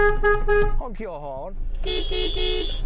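A car horn honks in two harmonic blasts, broken by a short wavering warble in the middle, loud and close.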